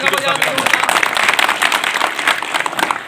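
A crowd at a public meeting bursts into vigorous clapping, close and loud, continuing steadily with voices mixed in.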